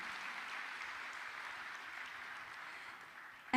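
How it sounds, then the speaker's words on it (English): Audience applause at the opening of a G20 Digital Innovation Network conference, a steady dense clapping from a large crowd that holds evenly for several seconds before a voice cuts in at the end. "Let's give a round of applause, ladies and gentlemen."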